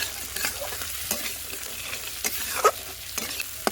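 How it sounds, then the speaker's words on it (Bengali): Slit green chillies and bori lentil dumplings fry together with crushed garlic in oil, giving a soft, steady sizzle punctuated by several distinct stirring clinks and scrapes. "আর চেরা কাঁচা লঙ্কা এর মধ্যে দিয়ে দেবো কয়েকটা বড়ি দিয়ে একসঙ্গে কিন্তু ভাজবো"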